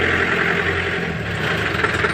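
A tractor engine idles close by, a continuous low mechanical chug with a steady throb and no voices over it.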